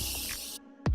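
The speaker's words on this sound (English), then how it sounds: "I'm going back in with my setting spray and just setting everything" A makeup setting spray gives a short, close pressurized hiss lasting about half a second, ending in a dull thump against quiet room noise.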